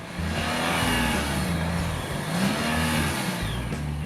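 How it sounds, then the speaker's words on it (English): A motorcycle engine revs up and down unevenly under erratic throttle, its pitch rising and dropping in irregular surges, loud and close with no pauses. "here is example of bad throttle"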